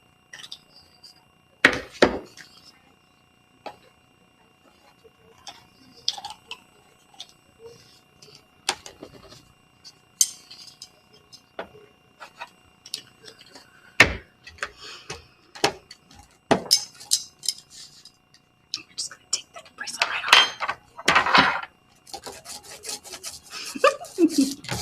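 A brayer rolls and mixes printing ink on a surface, giving scattered rubbing and tacky rasping strokes with sharp clicks, close and moderately quiet, under occasional talk.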